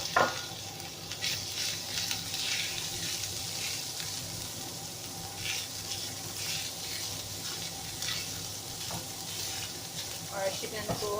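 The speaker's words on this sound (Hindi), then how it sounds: "चिकन को हल्का सा फ्राई करेंगे" Chicken pieces fry lightly in a pan after a brief sauté, filling the scene with a steady, close, bright sizzle and crackle that holds throughout, with occasional utensil clinks and faint background voices.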